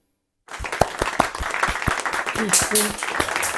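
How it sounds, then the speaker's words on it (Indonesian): Audience applause for Ibu Sita Winayah at the close of an evening talk event, starting abruptly after a brief silence and continuing as a brisk, moderately loud patter of clapping. "Sebelumnya kita tepuk tangan dulu untuk Ibu Sita Winayah."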